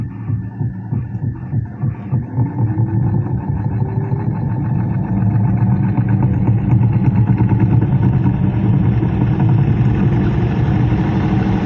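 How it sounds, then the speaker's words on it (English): A faulty heat pump blower fan motor runs loud and close with a throbbing, pulsing hum that steadies into a continuous droning whir. "It sounds like the fan motor is, something's going on with the fan motor"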